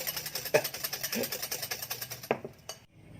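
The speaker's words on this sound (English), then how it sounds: "halfway through the whisking process" Egg whites for souffle pancakes are beaten by hand with a whisk in a bowl, a rapid rhythmic clatter of wire against the bowl that stops abruptly near the end.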